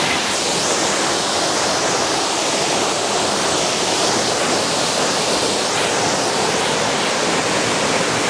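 A waterfall pours between massive boulders, a loud, continuous broadband roar of rushing water that holds steady and unbroken with nothing else heard.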